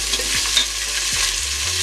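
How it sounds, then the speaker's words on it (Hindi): Green chillies, cloves, cinnamon pieces and shahi jeera fry in oil for a mutton dum biryani, giving a steady close sizzle with a few soft stirring scrapes and no talking. "4 हरी मिर्ची तोड़ के लिया है, हल्का सा फ्राई कर लूंगी"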